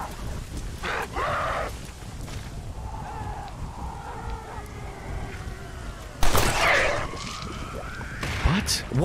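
Steady rain hiss with a thunder crash partway through, in the Red Dead Redemption Undead Nightmare video game, a dense wash of noise under faint game sounds, with a sharp loud burst near the end.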